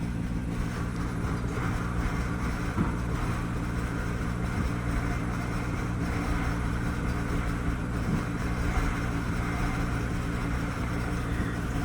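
A swapped engine in a BMW E90 runs at a steady, low idle, a constant rumble with no clear start-up burst. There is no talking.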